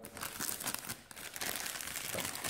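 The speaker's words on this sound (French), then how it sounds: "là je le froisse un peu, c'est pour que tu vois à peu près" A multipurpose survival blanket, thin and plastic-like, is crumpled by hand in a loud, continuous crinkling rustle with sharp crackles, close to the mic, with no talking.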